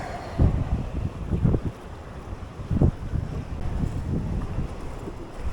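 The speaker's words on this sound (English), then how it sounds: "All right, the wind just picked up" Wind gusts rumble and buffet the microphone on a fishing pier by the sea in Thailand, swelling and easing in a few loud low surges with a steady rushing background.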